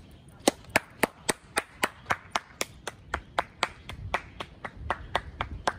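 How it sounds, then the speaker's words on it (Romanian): One person claps his hands alone at an outdoor football training session, about twenty sharp, evenly spaced claps in a steady rhythm, close and clear with no talking. "Mă aplaud singur."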